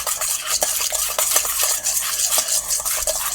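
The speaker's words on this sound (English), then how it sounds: "give it a stir, give it a whisk together" Pumpkin pie filling gets whisked in a bowl, a quick rhythmic clatter of the whisk against the sides, close and continuous with no talk.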